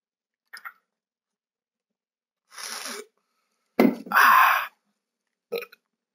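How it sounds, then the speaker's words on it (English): A short, weak burp from a character in the video game Dragon Ball Z Kakarot, followed by a couple of brief voiced bursts, separated by silence. "That was the weakest burp ever."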